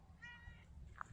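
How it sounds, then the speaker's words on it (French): A small, gentle cat on a pilgrim route in the morning gives a short, faint meow over a low background rumble. "Bonjour petit chat."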